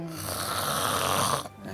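A person snoring in a loud, steady rasp that sounds close, then stopping abruptly near the end, the kind of heavy snoring linked to breathing pauses during sleep.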